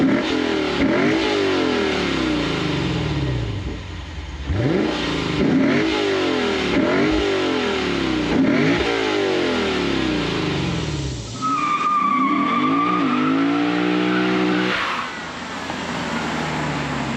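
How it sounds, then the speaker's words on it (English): A 2022 Lexus IS 500 F-Sport with its V8 engine revs in a run of sharp throttle blips, each rising and falling close to the listener, before settling into a deeper, rumbling idle with a thin whine above it. "so I'm gonna fire it up and let you guys hear what it sounds like."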